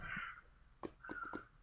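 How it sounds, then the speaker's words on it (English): Crows cawing at a distance, a drawn-out harsh call followed by a quick run of three or four short caws, faint and alone. "you hear those birds?"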